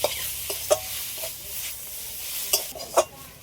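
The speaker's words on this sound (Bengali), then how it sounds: "এবার আমি ভেজে রাখা বেগুনটা দিয়ে দিচ্ছি" Fried eggplant being stirred into leafy greens in a pan, giving a soft sizzle under several sharp scraping and clinking stirs spaced irregularly across the moment, fairly quiet overall.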